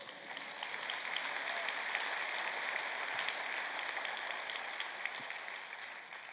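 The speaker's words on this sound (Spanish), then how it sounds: "Dale un aplauso al Señor." A church congregation applauding for the Lord during a sermon, an even, continuous patter of many hands clapping, moderately distant and fairly soft, sustained throughout with no speech on top.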